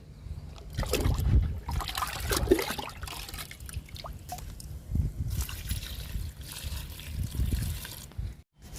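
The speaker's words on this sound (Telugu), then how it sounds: "ఈ మొక్క కూడా ఇచ్చేద్దాము లిక్విడ్." Liquid fertilizer is poured onto a potted plant in a few uneven trickling and splashing bursts, fairly faint, with short pauses between pours.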